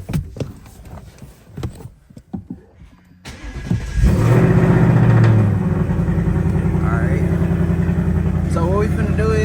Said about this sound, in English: All right, finna get this cold start going.